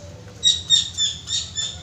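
A zebra dove (perkutut) gives an unusual reaction call rather than its normal cooing song: five short, bright chirping notes spaced about a quarter second apart, fairly close and clear over a faint low background hum, with no talking.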